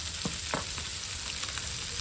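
Kodvai fish shallow frying in a pan, giving a constant hiss of hot oil with a few faint tapping and scraping sounds against the pan.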